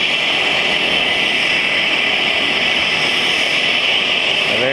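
An aircraft arrives at a remote lake to pick up a canoe trip group, its engine a loud, constant roar with a broad steady drone close by and no pauses.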